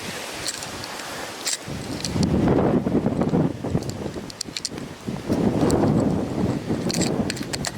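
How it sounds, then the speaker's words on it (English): Constant wind buffeting a microphone outdoors at the top of a high spot, a steady broadband roar that swells in stronger gusts, with faint rustling and no talk. "it's a constant wind"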